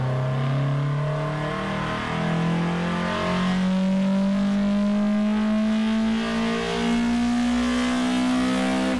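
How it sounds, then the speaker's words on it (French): A Mazda MX5 NC engine fitted with individual throttle bodies revs up steadily, its throaty intake induction roar rising in pitch, loud and close with no voices. "on a ce son d'induction à l'admission propre aux ITB"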